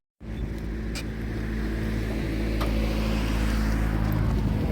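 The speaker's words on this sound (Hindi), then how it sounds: "this is the engine of the car," A Honda Civic Reborn with a 1800cc i-VTEC engine idles up close, a steady low rumble with a faint tonal hum and wind-like hiss that holds evenly, and no voices.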